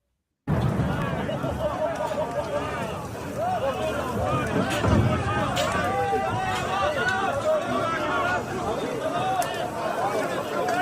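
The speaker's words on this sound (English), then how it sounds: "So here we have the farmers protesting in Brussels, putting tire tracks on fire." Farmers protesting in Brussels, with tires set on fire, fill the air with a dense, continuous crowd roar and babble of many voices, steady and fairly loud from start to finish.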